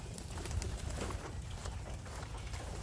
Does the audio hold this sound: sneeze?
no